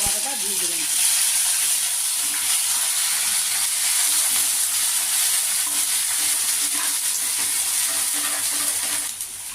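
Chopped onion and green chillies stir-fry in hot oil with black cumin for mustard hilsa, a steady close sizzle and hiss with faint scraping of stirring, continuous and fairly loud until it drops away at the very end.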